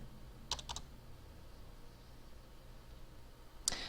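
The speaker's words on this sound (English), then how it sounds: "I can begin typing up my document." Brief bursts of keystrokes on a computer keyboard while typing a document in Word, a quick double cluster near the start and another short tap later, close and fairly faint over steady background hiss.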